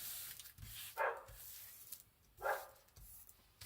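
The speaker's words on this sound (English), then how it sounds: "That sounds like the neighbour's dog Monty's out in the garden by the looks." A neighbour's dog barks twice out in a garden, two single barks spaced well apart. They sound somewhat distant and soft over a faint outdoor background.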